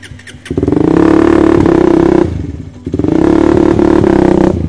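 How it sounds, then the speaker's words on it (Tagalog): A Yamaha Raider 150 Fi motorcycle engine cold-starts and idles loudly with a rough, clattering rumble, dips briefly, then catches again and keeps running steadily. "Cold start, cold start."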